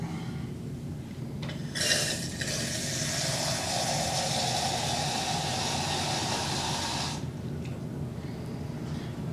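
Tap water runs steadily from a faucet for about five seconds to collect a water sample for a titration, a close, even hiss with a soft splash that starts and stops cleanly.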